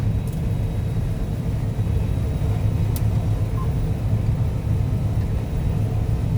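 A combine harvester works through a soybean field, its engine and threshing machinery producing a steady, loud low rumble that holds evenly throughout with no talk.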